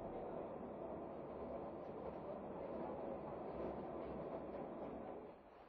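A train on the Flåm railway in Norway, descending mountainsides toward Sognefjord, rumbling steadily with a dense, even wheel and carriage noise that fades slightly at the end.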